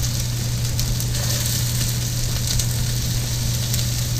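Vegetables sizzle steadily in a very hot pan with about a tablespoon of olive oil, a loud, continuous crackling hiss with a low hum beneath, no voices.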